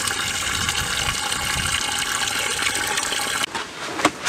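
Water gushes steadily into a bucket at a family campsite, a close, continuous splashing rush that cuts off abruptly near the end, followed by a few drips and small knocks.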